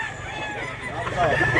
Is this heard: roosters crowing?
yes